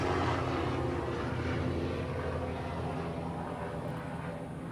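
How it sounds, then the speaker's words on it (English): A helicopter passing overhead outside near a car being worked on during an LS engine and 4L80E transmission swap, a steady loud rumbling drone that fades slightly toward the end. "that's the chopper out here looking for a fine mechanic"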